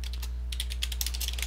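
Rapid keystrokes on a computer keyboard entering a name into a dashboard form, a steady run of light clicks over a constant low electrical hum.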